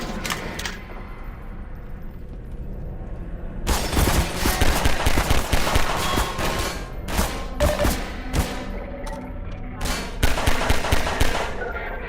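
Dense, loud bursts of rapid gunfire from enemies in a Half-Life 2 firefight, rattling shots overlapping almost continuously with sharp cracks and clattering impacts throughout.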